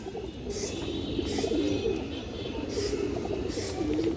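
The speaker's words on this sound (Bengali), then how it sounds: "পুরনো ব্লাডের কবুতর" Old-bloodline domestic pigeons coo in repeated soft, low, throaty phrases, close by and fairly quiet, with no talking over them.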